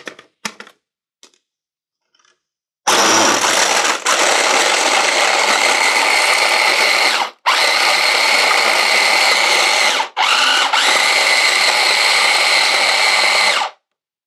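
A kitchen blender crushes frozen strawberries for fruit ice cream: after a few light clicks, the motor roars loudly and steadily in three long runs separated by brief stops.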